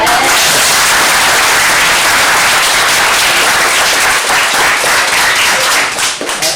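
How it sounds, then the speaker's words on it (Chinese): Loud sustained applause from a high-school auditorium crowd at a lecture event, many hands clapping densely and continuously for several seconds, close and strong throughout with a brief dip near the end. "掌声跟大家来掌声一下"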